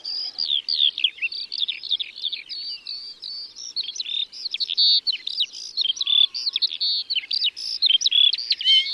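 Wild birds sing continuously in open countryside at Plaines Villes, Ploufragan, Côtes d'Armor, a site home to species such as bullfinch, skylark, melodious warbler, linnet, yellowhammer and stonechat; dense overlapping chirps and trills, fairly close, with no voices.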